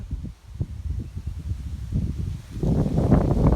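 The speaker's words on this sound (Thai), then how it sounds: "ลมแรง ใบก็เยอะ" Strong wind gusts rustle the dense foliage of a large black cherry tree by a roadside, a continuous close leafy rush that grows louder and fuller toward the end.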